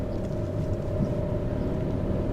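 The 0.9-litre TwinAir engine of a 2016 Fiat Panda Cross climbing a steep, twisty hill gives a steady, low drone that rumbles continuously, holding a strained, even pitch under load, with no voices over it.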